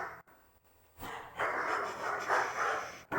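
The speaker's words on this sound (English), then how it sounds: "Excuse the dogs in the background." Dogs panting and breathing heavily with scattered low barks, fairly steady and continuous in the background of a room, with short pauses.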